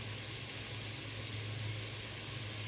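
Onion sautéing in a pan with salt and cumin, a steady, even sizzle that holds at the same level throughout with nothing else over it.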